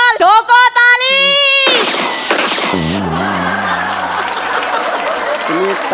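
A gunfire sound effect plays in place of applause during a Marathi stage comedy sketch: a voice and musical tones come first, then a loud crackling burst of shots, followed by lower tonal sounds.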